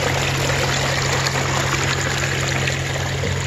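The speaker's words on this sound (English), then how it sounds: "Look at this waterfall. How nice that turned out. Is that a nice sound or what?" Steady splashing and trickling of a small garden pond waterfall in San Diego, a constant close rush of falling water with a low mechanical hum underneath.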